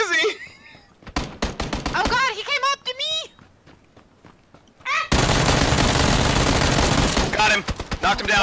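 Rapid bursts of gunfire from a shooter video game crack out after stretches of excited talk, then a dense, loud continuous volley fills the last few seconds.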